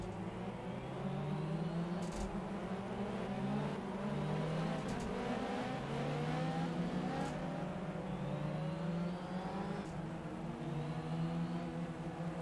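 Ferrari 360 Modena race cars on the formation lap at Donington Park GP drone steadily at a distance, several engines overlapping with rising and falling revs as the pack circulates, with no cars passing sharply close by.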